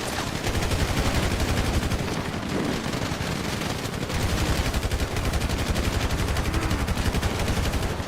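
Rapid, continuous automatic gunfire rattles from a shooting video game in a dense, unbroken stream of shots with hardly any pause.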